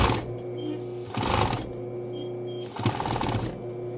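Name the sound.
sewing machine backstitching denim jean seams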